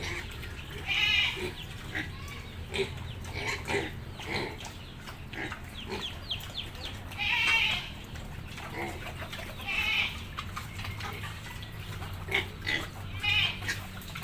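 Pigs grunt and squeal close by amid a noisy barnyard, with a rooster and other animals audible in the background.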